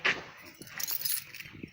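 Keys jangle in short bursts, a bright metallic clink at the start followed by a scattered rattle of keys being handled close by.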